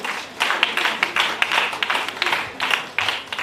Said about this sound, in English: Let's clap our hands again.